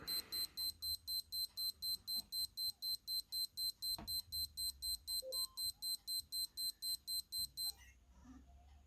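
A Timex Marathon digital watch timer beeps in a long, steady run of rapid, evenly spaced high-pitched electronic pulses, fairly quiet and close, before cutting off near the end.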